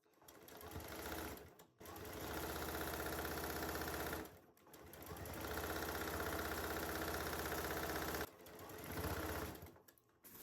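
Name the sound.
sewing machine stitching quilt pieces together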